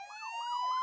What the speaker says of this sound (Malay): Ada ambulan kat rumah tu.